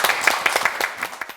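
Short burst of audience clapping at a Korean self-care talk show, a scattering of distinct claps close by, moderately loud and alone.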